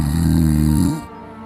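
A man snores loudly in a sleeping room, one deep, rattling, rumbling snore held close and heavy for about a second before it fades to quiet.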